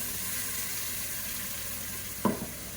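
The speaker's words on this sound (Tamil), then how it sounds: "சேர்த்துட்டு நல்லா வதக்கிக்கலாம்" Blended tomato puree, about three medium tomatoes, hits hot oil over sautéed onions for a mutton biryani gravy, giving a steady broadband sizzle with a brief louder burst near the end, with no talking.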